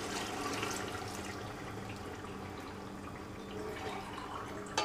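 Water is poured into a pot of chicken korma for biryani, five glasses for a kilo of rice, making a steady close splashing and trickling that runs unbroken for about five seconds with no voices.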